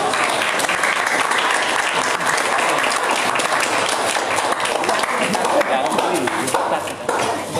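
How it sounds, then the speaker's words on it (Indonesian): Indoor audience at a premarital guidance session for teenagers in Central Lombok gives sustained, dense applause, many hands clapping steadily for several seconds before easing slightly at the end. "Jadi kita beri aplaus kepada beliau"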